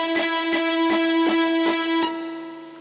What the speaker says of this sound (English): reverb here is slightly less clear